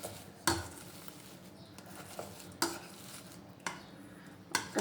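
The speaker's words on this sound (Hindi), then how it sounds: "इसको हम अच्छी तरह से मैश कर लेंगे ताकि सारे मसाले इसमें मिक्स हो जाए।" A utensil mashing boiled potatoes with spices for samosa filling, heavy periodic thuds against a pan roughly once a second, with scraping and stirring in between, close and fairly loud.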